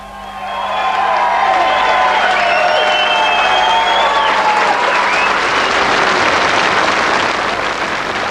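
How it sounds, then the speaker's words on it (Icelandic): A large crowd of supporters bursts into loud, sustained applause and cheering as Iceland's 1996 presidential election results come in, with whoops and whistles rising over dense clapping that swells and holds steady. "Ólafur Ragnari og Guðrúnu Katrínu Þorbergsdóttur var vel fagnað í hópi stuðningsmanna þegar úrslit lágu"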